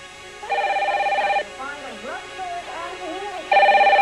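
A landline telephone rings in two loud electronic bursts with a buzzy, trilling tone, and a voice speaks in the gap between the rings.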